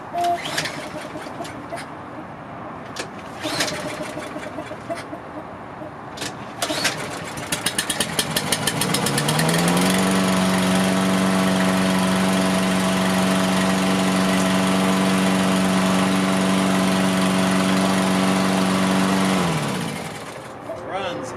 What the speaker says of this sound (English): Put the air filter box back together. And we'll go for a start.